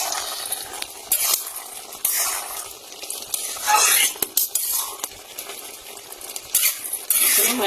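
A utensil stirs a pan of taro, red lentil and Malabar spinach curry, scraping and clinking repeatedly against the metal over a soft, continuous sizzle.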